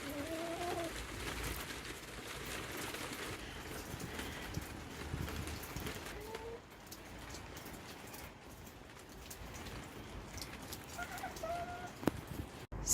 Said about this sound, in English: Hello, new chicken.